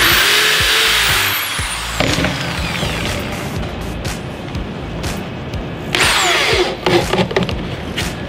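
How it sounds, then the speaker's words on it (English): A power drill whirs in short bursts, driving screws into the wood of a birdhouse, with clattering and rustling around it; a louder burst near the end. "So this one I can just drill right in."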